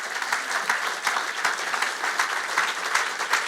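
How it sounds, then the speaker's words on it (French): Church congregation clapping and cheering together during a worship service, dense sustained applause with scattered louder claps, no speech over it. "Acclamons très fort le Seigneur."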